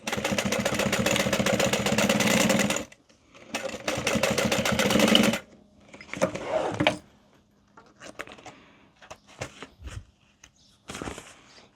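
A sewing machine topstitches a pocket on a bowler bag in two loud, rapid bursts of needle chatter, followed by fabric handling, rustles and scattered clicks.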